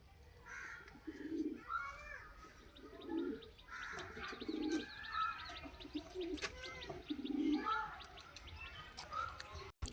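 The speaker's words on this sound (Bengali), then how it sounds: "হ্যাঁ, এটা মাদি পায়রা।" Female pigeons cooing in a loft: a series of soft, low, rolling coos repeating every second or two at close range, with light chirps and a faint voice now and then behind them.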